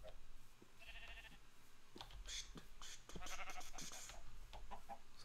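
Sheep bleating in the Minecraft video game, several short bleats in a faint, quiet scene alongside other animal-like calls and a low background hum.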